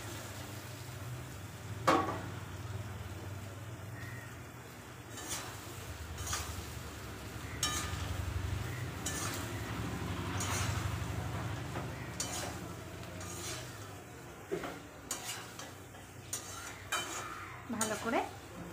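Soybean chunks and potatoes are sautéed with spices in a pan, bringing a low, steady sizzle with repeated scraping and clinking of a spatula against the metal, close up, with a few sharper knocks.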